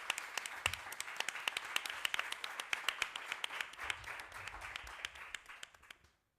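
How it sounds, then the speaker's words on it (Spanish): Audience applause at a panel talk, a dense patter of hand claps, moderately close, building briefly and then thinning out before stopping abruptly at the end. "Le damos un aplauso."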